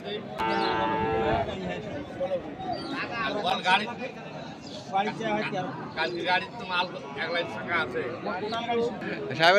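Cattle at a livestock market in Noakhali, with a loud close moo at the start followed by further lowing among crowd chatter and people talking nearby.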